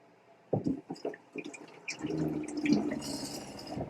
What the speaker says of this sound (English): Washing off the hands a little bit.